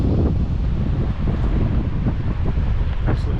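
Strong wind buffets the microphone at a smooth coastal rock pool near Streaky Bay, South Australia, a loud constant low rumble with gusty swells, while a voice talks faintly underneath.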